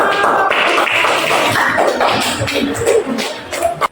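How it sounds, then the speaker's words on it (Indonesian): A classroom of students claps together in a dense, steady patter of many hands that runs for a few seconds and then tails off into scattered taps. "Tepuk tangan dong"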